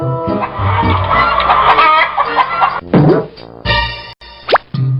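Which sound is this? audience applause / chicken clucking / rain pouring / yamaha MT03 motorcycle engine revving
chicken clucking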